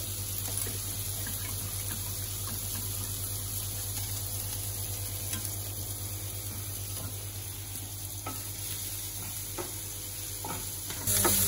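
Onions and bacon frying in a pan, a steady sizzle running throughout with light stirring and scraping taps, close and even in level, with no talking.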